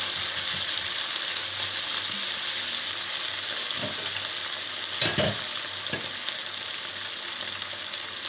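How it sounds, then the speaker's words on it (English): Beef searing in a frying pan gives a loud, dense, unbroken sizzle up close, with a couple of brief spatters and scrapes partway through and no voices. "You want the beef to try and sear a bit and try and get a bit of colour on it."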